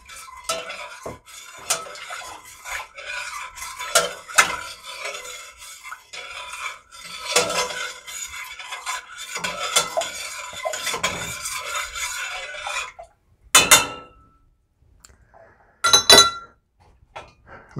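A metal spoon stirs sugar into tea in a one-quart glass jar for kombucha, with close, busy scraping and clinking that runs continuously, then ends in a few sharp taps.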